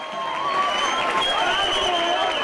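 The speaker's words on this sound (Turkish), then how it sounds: "Bir kocaman alkış orkestra alabilir miyim tekrardan?" An audience at a school folk-song competition applauds the orchestra in a dense, sustained wave of clapping, with whistles and cheers mixed in.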